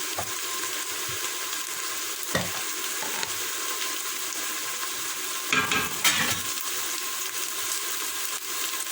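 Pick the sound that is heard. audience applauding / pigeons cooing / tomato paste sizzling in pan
tomato paste sizzling in pan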